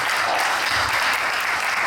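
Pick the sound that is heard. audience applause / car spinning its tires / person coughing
audience applause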